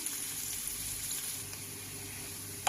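Garlic and onion sautéing in a pan while breakfast is being cooked, a faint, steady low sizzle with a soft hum beneath and one brief clatter near the end, no talking.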